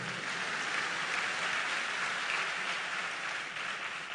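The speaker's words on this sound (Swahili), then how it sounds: "Hayo makofi yatosha hata kama ni ya uchoyo." A congregation at a Sunday service at KKKT Kijitonyama parish applauds in a sustained, even patter of many hands filling the room, fading slightly toward the end.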